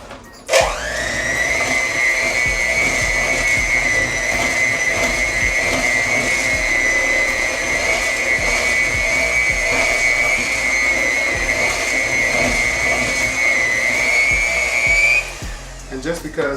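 An electric mixer stirring cake batter whirs loudly and steadily for about fifteen seconds, then winds down at the end.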